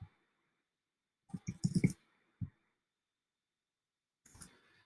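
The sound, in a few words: computer mouse clicking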